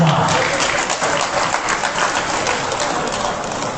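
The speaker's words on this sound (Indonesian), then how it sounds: "Tepuk tangan buat kita semua." Applause from a football community crowd at an Indonesian football association (PSSI) gathering, a steady wash of many hands clapping, fairly loud and continuous, fading slightly toward the end.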